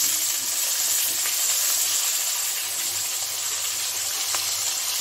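Potatoes frying in hot mustard oil with cumin seeds, a steady close sizzle and hiss running evenly throughout with no talk.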